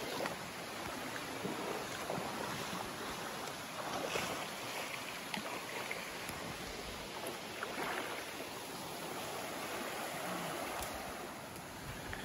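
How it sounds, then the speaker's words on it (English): A river runs alongside a backpacking trail on the Eagle Rock Loop in Arkansas, a steady broadband rush of flowing water that stays constant and close throughout, with no voices. "We've been following this river for the last 4 or 5 miles."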